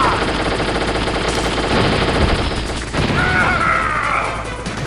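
Rapid gunfire rattles through a Metal Gear Solid battle, dense bursts and impacts layered over game sounds, loud and continuous across the moment.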